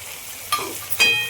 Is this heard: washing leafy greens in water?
no